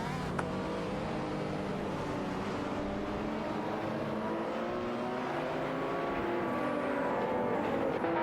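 Two simulated race cars, a Burton Nuntide and a McLaren F1, battle in a video game, their engines droning steadily with rising and falling revs throughout, loud and continuous with no voices.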